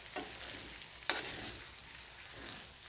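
Curry sauce cooks in a pan with a low, quiet sizzle and bubbling, broken by a couple of brief stirring scrapes.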